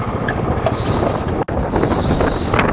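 Strong wind roars across the microphone on a Royal Enfield Classic 350 ride near Khardung La and Nubra in Ladakh, with a steady rushing buffet and a brief dropout midway.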